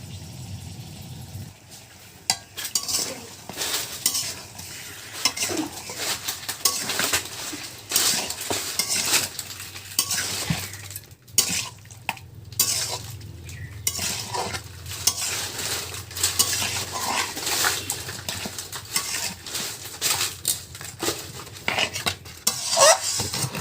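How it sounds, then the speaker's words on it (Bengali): Katla fish frying in plenty of oil and being stirred with spices in a pan, with dense scraping and clinking of a utensil against the pan over a steady sizzle throughout, no talking. "মাছটা সুন্দর করে মশলার সঙ্গে কিন্তু কষিয়ে"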